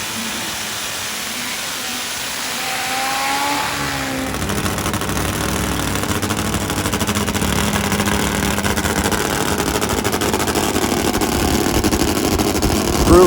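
A heavy top fuel nitro drag motorcycle thunders down the strip, a rough roar swelling from quiet to loud and staying at full blast as it passes.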